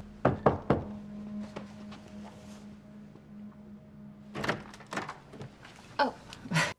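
Knocking on a hotel room door: a quick cluster of sharp raps at the start, a humming pause, then further louder knocks and thuds near the end, close and distinct.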